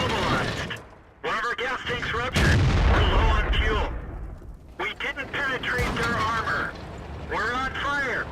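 Booming cannon fire and rumbling blasts from tanks in World of Tanks, with a T32 in battle; a heavy deep boom lands mid-way, surrounded by ringing metallic effects and crackling action sounds.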